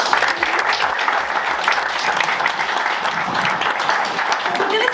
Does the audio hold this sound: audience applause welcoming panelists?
yes